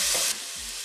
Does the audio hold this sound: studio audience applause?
no